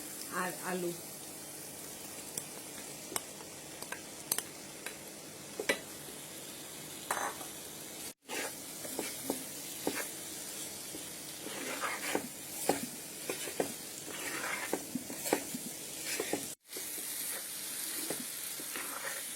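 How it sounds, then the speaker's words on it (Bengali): Fried jackfruit goes into a pan of cooked-down spice paste for a jackfruit and potato dopiaza. A low, continuous sizzle carries on at moderate distance, with scattered scrapes and clicks of stirring. "মশলা কষানো হয়ে গেছে এখন দিয়ে দেবো ভেজে রাখা কাঁঠাল"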